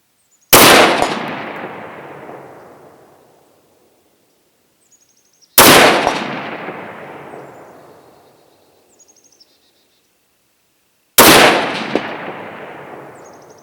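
Three loud, close 6.5 Creedmoor rifle shots fired at 150 and 200 yard targets, each a sharp crack followed by a long rolling echo that fades over several seconds, spaced about five seconds apart, with no talking.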